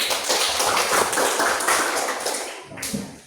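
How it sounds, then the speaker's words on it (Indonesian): A classroom of children claps together for a classmate named Aris, a dense, steady patter of many hands that fills the whole stretch and eases off slightly near the end. "Tepuk tangan untuk Aris dulu."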